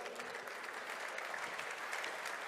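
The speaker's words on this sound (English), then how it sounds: "A big applause, please." A crowd applauds steadily at a KTM motorcycle unveiling at EICMA 2016, a dense wash of clapping hands heard from a moderate distance, with no voices over it.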